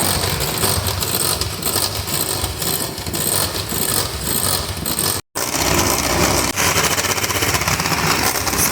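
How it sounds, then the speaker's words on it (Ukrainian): Electric mixer beating apple puree together with whipped egg whites for apple marshmallow, a steady loud whirring drone running continuously apart from one very brief break midway, with no talking. "Вбиваємо пюре з білком."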